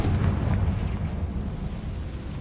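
A fiery Confringo spell blast in the Hogwarts Legacy video game, a loud, sustained rumbling explosion that stays dense and heavy through its whole length, with no voices over it.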